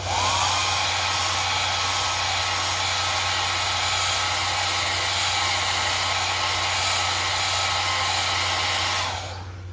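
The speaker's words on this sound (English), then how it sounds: "Take your blow dryer." A blow dryer used on a wig roars loudly and steadily at close range for several seconds, then cuts off abruptly near the end.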